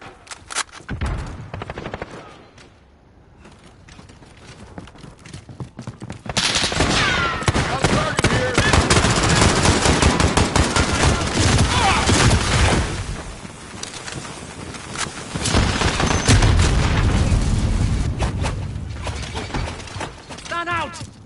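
Gunfire in the video game Call of Duty: sustained bursts of automatic shots and rattling fusillade, loud and close, easing briefly then returning heavily, with game voices calling out in between.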